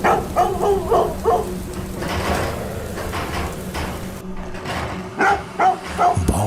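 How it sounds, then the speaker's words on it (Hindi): Dog barks repeatedly at a gate during heavy rain, sharp barks in bursts at the start and end over a steady downpour with low rumbling. "भागता हुआ वो कुत्ता गेट की सलाखों से बाहर आने की कोशिश कर रहा था।"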